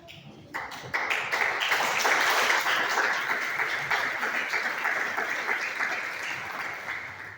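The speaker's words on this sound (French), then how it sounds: "je demande à tous les récipiendaires de se mettre à debout pour recevoir une ovation de l'Assemblée" An audience at a graduation ceremony gives the graduates a standing ovation, sustained applause from a large crowd that swells after a few scattered opening claps and holds steady throughout.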